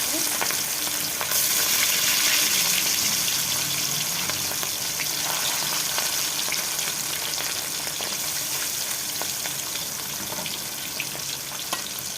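Fish slid into hot oil in a pan, giving a loud, dense, continuous sizzle and crackle that stays steady throughout, with faint stirring and spatter underneath.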